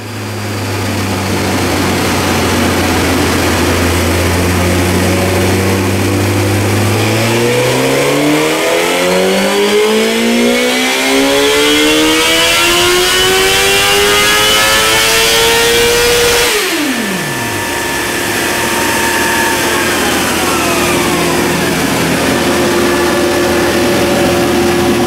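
A 2017 Suzuki GSX-R1000 motorcycle on a dyno with a new exhaust revs hard and continuously, its engine pitch climbing steadily through a long full-throttle pull, then dropping sharply before settling into a lower steady drone, loud and close.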